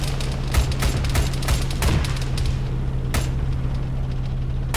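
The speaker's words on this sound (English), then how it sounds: "He's taking heavy fire." Heavy gunfire in the military shooter Arma 3: a rapid string of sharp shots and booms over about three seconds, then a lone crack, all over a steady low engine-like hum.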